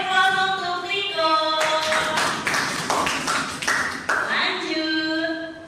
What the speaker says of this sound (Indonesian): Kita beri aplaus untuk Riko.